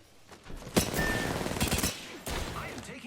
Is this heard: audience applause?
no